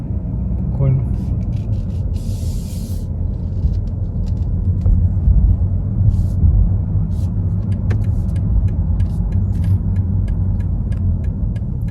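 A rented BMW 320 driving along a road, with steady engine hum and tyre rumble close and continuous, and scattered clicks and faint other traffic throughout.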